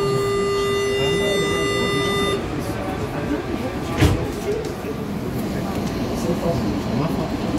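Line 2 Green metro train of São Paulo running between stations gives a steady interior rumble. A station chime tone opens it, with a brief clunk partway through.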